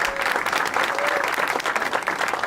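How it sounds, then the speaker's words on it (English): Audience applause at an AFT event launching a career pathway curriculum, full and steady clapping from a large crowd, close and fairly loud across the whole stretch. "I want to give her a round of applause, everybody."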